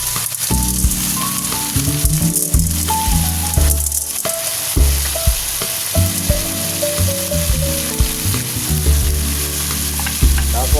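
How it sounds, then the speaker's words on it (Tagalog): Dry macaroni toasting in a pan for sopas, a steady loud sizzle and frying hiss with occasional stirring scrapes, running continuously under background music. "Tutostahin natin muna yung macaroni."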